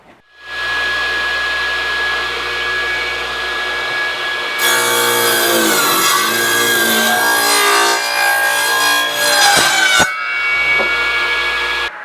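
A Sears radial arm saw starting up and spinning with a loud steady whine, then cutting into wood with a harsher rising screech before winding down, close by and without talk.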